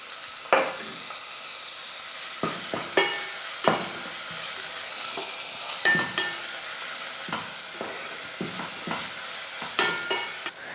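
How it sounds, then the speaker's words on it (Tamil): Grated onion fries in hot oil with cumin for a chicken curry, a steady bright sizzle broken by a series of spoon scrapes and taps against the pan at an uneven pace. "இப்போ அந்த வெங்காய துருவலை நான் இதில் சேர்த்துக்கிறேன்."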